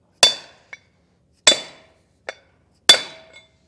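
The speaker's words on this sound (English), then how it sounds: "we're just going to hammer that until it is seated up against that lip" Three sharp metallic hammer strikes seating a Timken L68111 bearing race into a trailer hub, evenly spaced and close, each ringing briefly, with a lighter tap between them.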